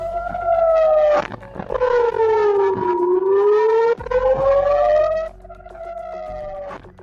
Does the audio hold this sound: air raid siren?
yes